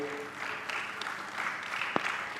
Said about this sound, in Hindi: एक बार जोरदार ताली बजा दीजिए।